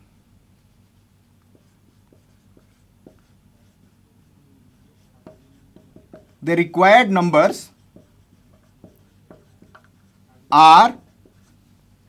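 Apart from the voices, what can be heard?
writing numbers on a board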